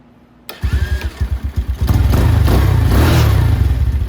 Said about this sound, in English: So our starter works perfect. Kick the bike right over.